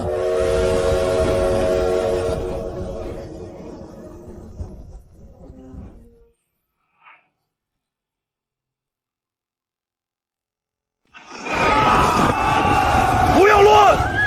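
A train in a drama set in ancient times gives a sustained, tonal whistle over a heavy rumble, then stops. After a long silence, loud voices and crowd noise break in.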